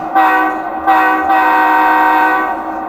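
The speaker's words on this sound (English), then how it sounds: "you also have 44 different air horns to choose from" A loud locomotive air horn from a Blunami or Tsunami2 large-scale model train sound decoder sounds in a short blast, then another short blast, then a longer sustained chord, close and alone.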